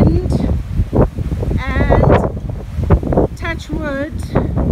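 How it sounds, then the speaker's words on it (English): Strong, gusty wind roars steadily across the microphone outdoors on an off-grid homestead in central Portugal, with a voice speaking over the noise and faint animal bleats. "You can hear the wind."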